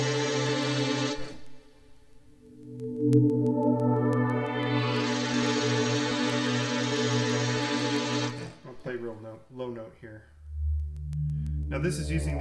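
Harsh, buzzy aliasing noise from samples run through a synthesis signal path on a Kurzweil PC3 keyboard, with bright harmonic tones sweeping and gliding in pitch, cutting out and restarting, then breaking into stuttering fragments. No voices.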